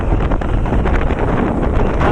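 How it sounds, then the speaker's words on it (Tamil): Strong wind buffeting the microphone while riding a motorbike, a loud rough continuous low roar with gusty fluctuations and no speech. "ஆனால் காற்று ரொம்ப அதிகமாக இருக்குது இங்கே"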